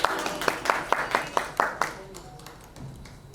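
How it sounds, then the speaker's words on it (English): Applause and clapping greet an actress as she is welcomed onto the stage at an app launch event, a burst of claps with rhythmic accents that fades over about three seconds, mixed with crowd noise. "With a huge round of applause, let's welcome her."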